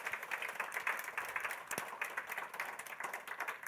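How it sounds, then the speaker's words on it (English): Audience applause for four panellists at an evening public event about voting in Auckland, a steady wash of clapping heard alone, moderately faint and continuous. "a massive round of applause"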